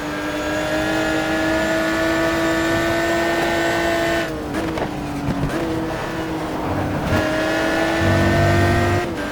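A V12 race car engine in a GT racing sim game holds a steady, loud high-pitched drone, dipping briefly during gear shifts before pulling strongly again uphill, with no talk over it.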